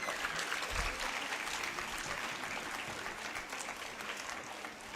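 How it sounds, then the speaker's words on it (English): Audience applause at a school annual day ceremony, a steady wash of clapping from a large crowd filling the whole stretch at even loudness, with a brief low thump near the start. "Please clap for him."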